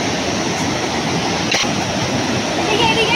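Kanchenjunga Falls near Pelling in West Sikkim, water pouring steadily in a dense, broadband rush that fills the whole scene, loud and close with no pauses.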